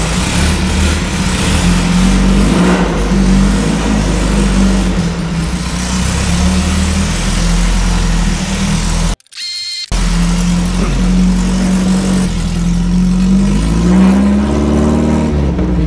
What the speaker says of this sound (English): That exhaust, so loud, but it looks cool.